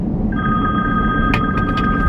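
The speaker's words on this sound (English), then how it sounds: "Oh, Lord, it's my husband calling." A phone rings with a steady electronic tone from a husband's incoming call, sustained and fairly loud over a noisy indoor background, with a few brief bursts partway through.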